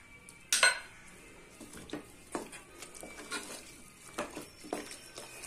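Sweet pongal being stirred with milk in a pot, a spoon clinking and scraping against the metal with one sharp knock near the start, then soft, irregular stirring taps close by, with no talking.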